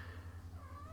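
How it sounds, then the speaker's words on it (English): A pet cat meows once, faint and close, with a drawn-out mewing tone over a low hum and no talk. "excuse my cat"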